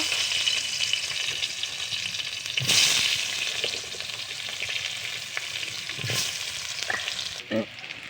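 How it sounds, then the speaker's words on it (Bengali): Potatoes frying in hot oil in a pan, a dense continuous sizzle up close, broken by a few sharp stirring scrapes and brief louder crackles. "এই যে এখানে আমি আগে ভালো করে আলুগুলো ভেজে নেব।"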